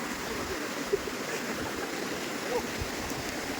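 Steady rushing water at Donne Falls near Ankola, a broadband wash running continuously with a couple of faint knocks.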